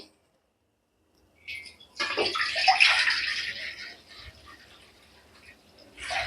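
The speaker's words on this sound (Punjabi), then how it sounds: "ਹੁਣ ਮੈਂ ਜਿਹੜਾ 1 ਲੀਟਰ ਦੁੱਧ ਹੈ ਇਹਦੇ ਵਿੱਚ ਪਾ ਲਵਾਂਗੀ" A litre of homemade milk is poured into a wok that was just rinsed with water, making a steady, close-up splashing gush that starts abruptly and gradually tapers off, with another brief splash at the end.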